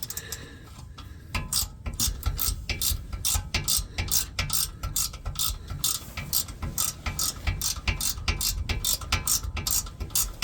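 A hand ratchet tightening a bolt on a Skoda Superb car door, with rapid, loud, close-up rhythmic clicking in repeated strokes for the whole stretch.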